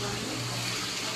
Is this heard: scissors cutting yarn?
no